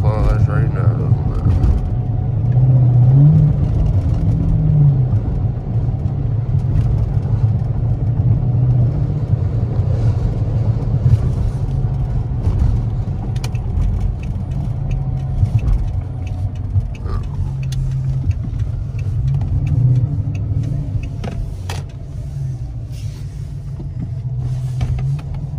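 Dodge Charger R/T AWD driving on a bumpy street, a steady close engine rumble running throughout beneath someone talking inside the car.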